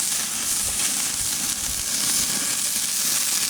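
Carne asada and a jalapeno sizzle steadily on a hot grill, a loud, continuous frying hiss close by with no talking.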